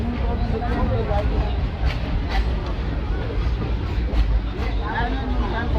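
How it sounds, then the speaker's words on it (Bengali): Intercity express train rolling out of Brahmapur station, a steady broadband rumble of wheels and carriage noise filling the whole stretch, close and continuous with faint clanks and a murmur of voices underneath. "ব্রহ্মপুর থেকে ট্রেন ছেড়ে বেরিয়ে যাচ্ছে"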